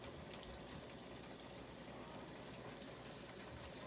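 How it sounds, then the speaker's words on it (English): Beef stock poured into a pot of cooked, broken-down meat sauce for lasagne al forno, giving a steady close liquid splash and bubbling wash that holds evenly for a few seconds with no talk. "we're going to add our beef stock"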